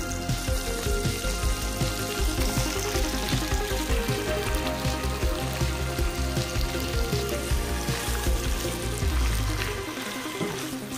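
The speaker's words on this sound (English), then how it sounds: "So I'm going to quickly fry them on high flame." Squid sizzle hard while stir-frying over a high flame for butter garlic calamari, giving a dense, continuous crackle and spatter that stays loud throughout, with a low clunk near the end and no talking.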